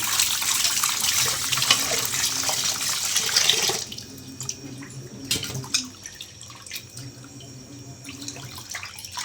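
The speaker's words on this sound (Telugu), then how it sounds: "నార్మల్ వాటర్తో ట్యాప్ వాటర్తో క్లీన్ చేస్తున్నారు" Tap water runs and splashes steadily over dried fish being rinsed for a few seconds, then quiets to softer trickling and drips with occasional small knocks.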